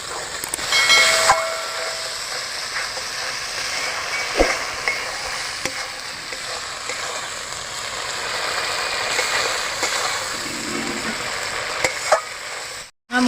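Spice paste with green chillies frying in a pan for pabda fish jhal, a steady hissing sizzle with occasional soft stirring scrapes and a few clicks, close up and uninterrupted by talk until a brief cutoff at the end.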